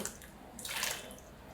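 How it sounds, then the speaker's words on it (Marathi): A short, quiet splash of water being poured to wash dried Bombay duck fish, swelling briefly then fading. "आता पाणी वत्ते पाण्याने चांगले जरा धुवून घेते"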